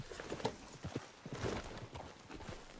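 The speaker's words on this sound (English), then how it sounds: "Hey, get back on your horse." Horse hooves clip-clop at a steady walking pace in Red Dead Redemption 2, fairly quiet with faint background ambience and no clear talk.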